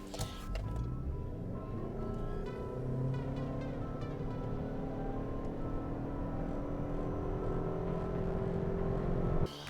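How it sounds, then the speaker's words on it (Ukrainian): Lexus ES 300h 2019 hybrid with E-CVT and 218 hp accelerating hard toward 100 km/h, a steady engine drone with slowly rising tone held for about ten seconds, no talk. "І зараз ми перевіримо розгін до 100, який повинен складати 8 секунд."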